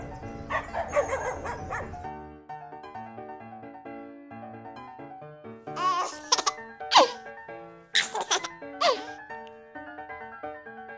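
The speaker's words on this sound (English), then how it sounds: "Dog." A dog barks in several sharp, separate bursts, close and fairly loud, after a few seconds of other busy sound at the start.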